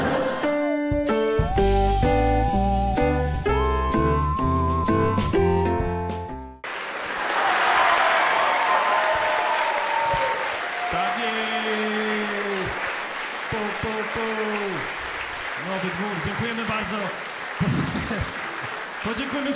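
An audience claps at a stand-up comedy improv show in Nowy Dwór: loud music plays first, then sustained applause breaks out as someone speaks over it.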